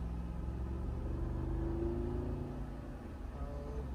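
Road traffic around a Jeep with a Metalcloak lift, Black Rhino wheels and Nitto tires on a test drive: a steady engine and tire rumble with a swell near the middle as vehicles go by, continuous and fairly close, no voices.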